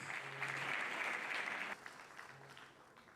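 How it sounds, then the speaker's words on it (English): An audience at the LASU convocation ceremony in Epe claps for the royal majesties, a bright burst of applause that holds strong, then thins and fades after a couple of seconds. "A round of applause for all of them"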